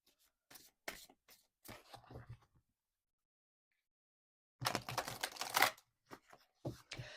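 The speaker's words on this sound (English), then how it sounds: "Let's give the cards a shuffle." Tarot cards are shuffled by hand: a handful of short, crisp riffles and rustles, a quiet pause, then a longer, denser shuffling burst followed by a few soft taps, all close and fairly quiet.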